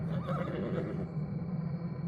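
A horse whinnies and neighs continuously at close range, a steady loud call with a fluttering tone lasting the full two seconds, no speech over it.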